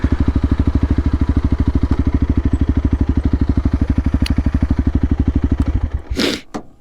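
Honda CRF300L motorcycle fitted with a Black Widow exhaust, idling with a loud, rapid, even thumping pulse close to the pipe, then a sudden short rev blip and clatter at the end.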